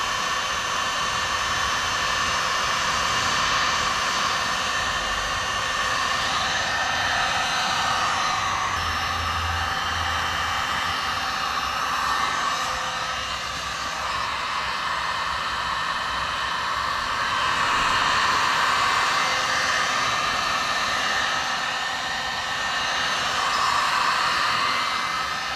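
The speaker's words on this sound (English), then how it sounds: "Grab your heat gun." A heat gun blows hot air to shrink tubing over rivets on a Hobie PA kayak seat, giving a steady, loud, continuous blowing roar that lasts throughout with only slight swells and no talking.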